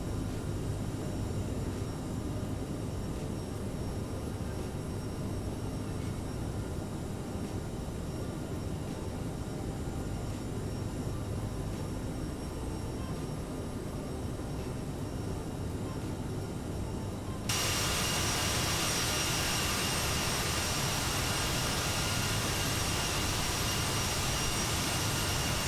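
The CRJ700 regional jet's engines roar steadily during the climb in Microsoft Flight Simulator, a continuous loud whine and rumble that grows brighter and stronger partway through.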